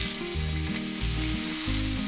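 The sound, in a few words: fish frying in oil in a pan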